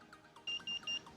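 An RFID reader sounds three short, bright electronic beeps in quick succession as it accepts a registered tag, fairly quiet against a faint background.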